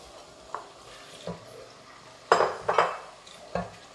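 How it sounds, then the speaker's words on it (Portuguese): Carrot, bell pepper and other vegetables sautéing in a pot for an octopus and vegetable feijoada: a low sizzle under a few distinct clanks and scrapes of a utensil against the pot, with a louder burst of stirring midway. "Vamos deixar refogar aqui um bocadinho, aí uns 5 minutinhos."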